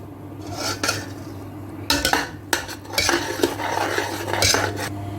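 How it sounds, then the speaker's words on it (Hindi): Metal spoon scraping and clanking against a cooking pot while chillies and spices are stirred into biryani, irregular loud knocks and scrapes in quick bursts, close up with no talk. "और इनको करेंगे अच्छे से मिक्स।"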